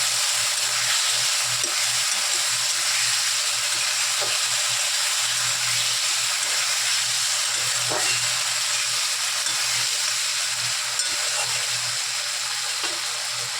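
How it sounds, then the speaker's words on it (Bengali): A spice mixture frying in a pan as turmeric is stirred in, a continuous loud hissing sizzle with faint periodic scrapes of the spoon and a low steady hum underneath. "এবার হলুদ দেবো, দেখুন হলুদ দিলাম, দিয়ে আবার একটু নাড়াচাড়া দিয়ে মিশিয়ে দেবো"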